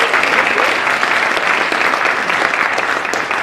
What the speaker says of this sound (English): Give Becca a little round of applause.